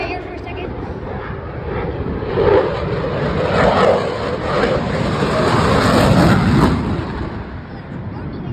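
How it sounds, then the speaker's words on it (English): A fighter jet roars overhead in a sustained, loud, broadband rush that swells and fades slightly over several seconds, heard outdoors from the ground. "It's a fighter jet. Look how it moves in the air."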